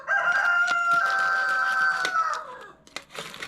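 Several roosters crow outdoors in a long, loud, sustained cock-a-doodle-doo lasting about two seconds, fading out, followed by fainter clucks and scattered noises.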